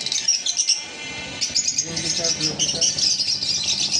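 Caged lovebirds (green Fischer's, yellow Fischer's and blue masked) chirping at a bird sale, a busy stream of high, shrill tweets under close conversational voices.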